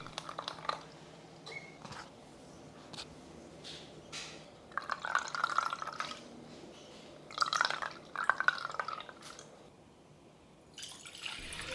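Pandan juice drips and trickles as blended pandan leaves are squeezed by hand, giving scattered wet drips and short splashy bursts into a container, fairly quiet and close.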